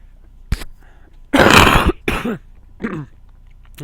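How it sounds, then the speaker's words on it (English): A person coughs several times up close in a quiet room: a sharp short cough, then a loud harsh burst followed by a few rougher, throaty coughs with short pauses between them. "It's really more just a cough at this point."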